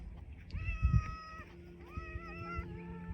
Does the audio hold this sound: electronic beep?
no